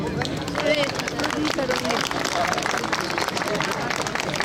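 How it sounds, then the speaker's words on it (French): An outdoor fair audience claps for horses being presented, a steady patter of applause with crowd noise and a voice talking over it, fairly loud and close throughout. "eh bien, merci de les applaudir."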